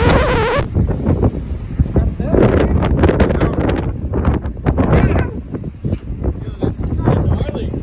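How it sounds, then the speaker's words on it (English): Strong wind buffeting a microphone outdoors at a work site in Wildwood, New Jersey, a rough low rumble gusting throughout beneath people talking. "this wind is not letting us do anything"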